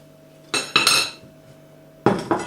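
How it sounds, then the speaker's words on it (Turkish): A knife chops boiled potatoes for potato salad, with two sets of quick clacking cuts against a hard surface, close and crisp, separated by a brief pause. "Patateslerimi bu şekilde doğruyorum."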